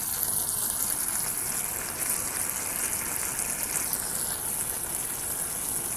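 Steady rushing of water being poured into a cooking pot of homemade sardines, a continuous gushing wash with no pauses, fairly close and constant throughout.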